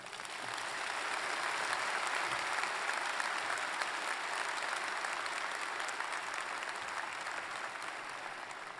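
Long, sustained applause from a large crowd at a university undergraduate commencement ceremony, dense even clapping filling the hall from start to finish.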